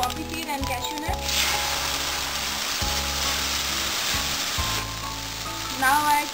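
Cumin seeds, a pinch of asafoetida and a poppy seed and cashew puree sizzle steadily in a hot pan for malai kofta gravy, with a loud continuous hiss and faint music underneath.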